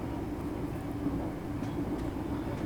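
A ScotRail class 385 electric train braking in the Train Sim Classic game, heard as a steady low rumble and rolling drone from inside the cab, with faint higher hisses over a constant level and no talk.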